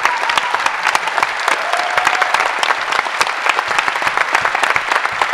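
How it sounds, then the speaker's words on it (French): An audience at a French quiz show with guests gives a sustained round of dense applause, close and steady throughout, with no speech over it. "Je pense qu'on peut clairement les applaudir."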